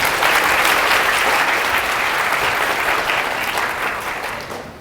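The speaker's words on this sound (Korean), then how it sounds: "신정규님께 큰 박수 부탁드리겠습니다" A conference audience at PyCon APAC 2016 gives a speaker a full round of applause, a dense, steady wash of clapping that holds for several seconds before gradually tapering off.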